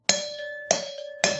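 Three bright bell dings struck about half a second apart, each with a sharp attack and a ringing tone that decays briefly before the next strike, loud and clean with no talk.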